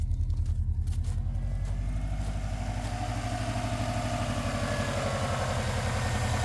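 A car engine idles steadily while warming up on a cold day, a close, continuous low mechanical rumble with a slight rhythmic clatter that holds even throughout, with no talking.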